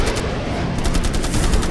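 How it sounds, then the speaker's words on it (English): Cannon fire from a fighter jet during a 1971 dogfight over Srinagar: a dense, continuous rattle of rapid shots with a steady roar and no clear pauses between bursts. "Andrabi closed in on Sekho and opened fire"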